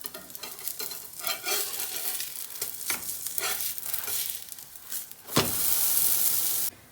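Sfenj dough, brushed with butter and oil, fries in a pan after being flipped; irregular crackling sizzles build to a sudden loud hiss that holds steadily for about a second before cutting off.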